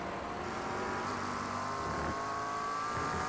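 A red number 778 Porsche GT3 race car in iRacing at Canadian Tire Motorsport Park holds a loud, continuous high-revving engine drone with slight pitch shifts.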